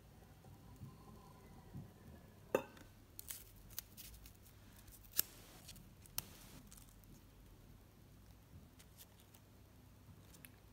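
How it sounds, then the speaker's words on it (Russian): Scissors snip through a 2 cm rep ribbon held with tweezers while rose flowers are made, giving a few sharp, close clicks among quiet handling noises. "И обрезаю."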